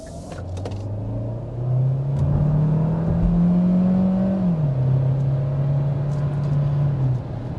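Kia Sportage hybrid SUV accelerating, with the engine running through a traditional transmission: a steady engine hum climbs in pitch, drops sharply at a gear change, then holds. The sound is clear, loud and continuous, with no talking.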